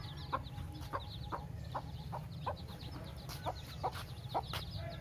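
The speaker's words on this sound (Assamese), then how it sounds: "বন্ধুসকল এইজনী মুৰ্গীক দিয়া হৈছিল 15টা কণী।" A hen on a low-cost poultry farm clucks in a soft, regular series of short calls, close by, with her newly hatched chicks nearby and a low steady hum underneath.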